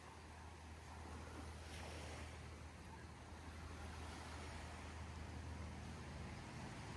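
Ocean waves wash onto a beach on Boracay Island, a faint continuous surf rumble mixed with steady wind noise buffeting the microphone, with no voices.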